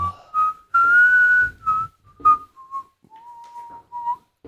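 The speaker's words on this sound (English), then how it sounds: "Are you inwards whistling?" A person whistles a thin, breathy tune by drawing air inward, holding a few steady notes with short gaps, close and fairly clear.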